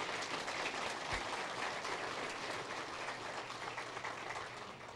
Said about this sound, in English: if we could give all of our staff and the folks that have put together this opportunity a round of applause